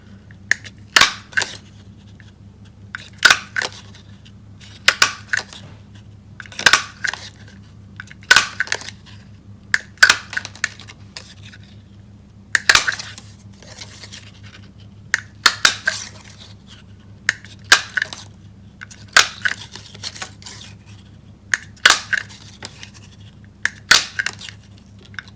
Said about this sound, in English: I have the 3/4 of an inch circle punch, and we're just going to punch a whole heap of circles